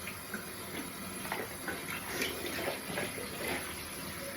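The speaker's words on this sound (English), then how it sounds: "So you're just kind of hearing water run." Tap water runs steadily into a sink to rinse soap out of handwashed laundry, a soft continuous splashing with light ticks and drips, fairly quiet and without talk.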